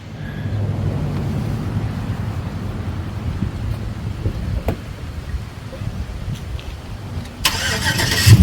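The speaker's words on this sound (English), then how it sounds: "we're gonna hook a tow rope to my truck and just pull it out" A truck engine runs while pulling a 1979 Pontiac Trans Am out with a tow rope, a steady mid-level rumble with wind noise, rising slightly toward the end, with a little speech.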